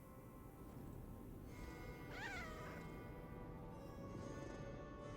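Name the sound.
cat meowing in Lies of P video game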